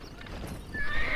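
A horse in Red Dead Redemption gives a short whinny during a horse-breaking scene, with hoof clatter beneath it, brief and fairly close.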